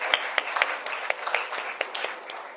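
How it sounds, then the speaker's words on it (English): Applause from a conference audience at a formal debate on ECOWAS at 50, heard as a steady patter of many clapping hands at moderate distance, fairly faint, without voices. "A round of applause."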